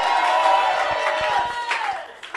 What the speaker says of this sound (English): Suddenly, clap and shout like your voice is yours.